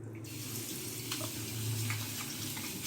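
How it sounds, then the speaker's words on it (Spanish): A tap runs steadily into a sink as a child rinses soap bubbles off, a constant faint stream of water with small splashes and no talking. "Lávate, mi amor, las burbujas."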